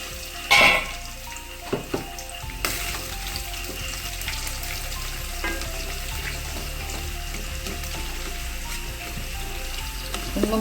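Shallots, ginger and garlic fry in hot oil with spluttering mustard seeds, cooking for a potato masala. A few sharp pops come early, then a steady sizzle continues, with no talking.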